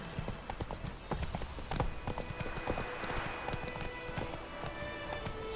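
Horse hooves clip-clopping at a quick pace in The Witcher 3, sharp rhythmic strikes repeating steadily over an ambient outdoor game background, moderately close and fairly quiet.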